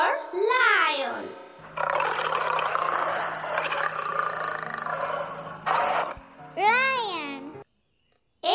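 A lion roars in one long, loud, rough growl lasting several seconds, with short vocal sounds just before and after it.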